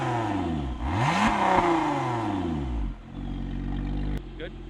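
A Lotus Emira engine revs with its exhaust valves open, the pitch sweeping up and down through loud, close throttle blips before settling to a rumbling idle, with a brief click near the end.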